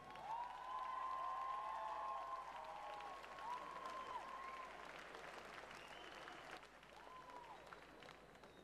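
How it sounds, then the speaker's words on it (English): A large crowd at a Muay Thai bout applauds steadily, with cheering mixed in; the clapping fades slightly toward the end. "Applause for these warriors."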